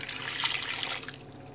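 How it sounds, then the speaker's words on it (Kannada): Water is poured into a large pan of vegetables, giving a soft, short splashing trickle at low volume. "ಸೊ ಇದಕ್ಕೆ ಎಷ್ಟು ಬೇಕೋ ಅಷ್ಟು ನೀರನ್ನ ಸೇರಿಸ್ಕೊಳ್ಳೋಣ."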